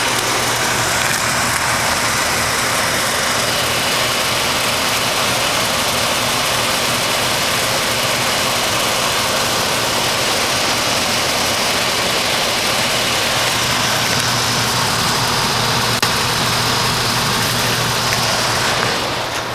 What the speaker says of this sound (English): That is one frozen heat pump.